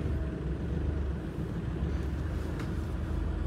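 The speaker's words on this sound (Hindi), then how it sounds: "वो डीजल वाला जो आवाज़ आती है ना, वो तो खैर है इसमें।" A Mahindra Bolero Neo with a BS6 diesel engine drives along, its steady low rumble and road noise continuous and fairly even from inside the cabin, with no talking.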